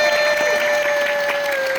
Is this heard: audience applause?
yes